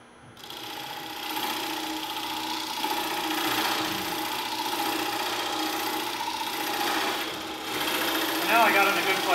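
A wood lathe turns a workpiece against a slightly dull carbide cutter at a woodturners' club meeting, producing a steady mechanical whir with a rough cutting hiss. Someone talks over it throughout.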